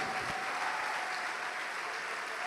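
A church congregation applauds in a steady, dense wash of clapping that fills the whole stretch at an even level, with no voices standing out.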